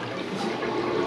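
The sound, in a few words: toilet flushing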